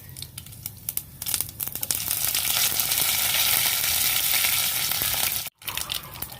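Mustard seeds sizzle and crackle in hot oil, a loud continuous frying hiss with scattered pops, close by and without speech.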